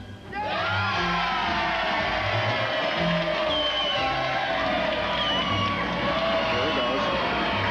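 A large crowd shouts and cheers loudly and continuously, with whoops and raised voices blending into a dense roar that swells in and holds steady.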